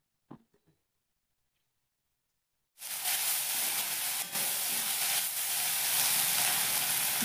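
Chopped onions and garlic hit hot oil in a pan for a fish curry: a few faint clicks, then a sudden, loud, steady sizzle that continues to the end.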